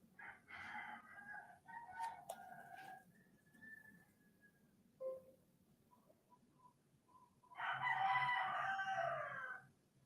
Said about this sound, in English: you can definitely hear them roosters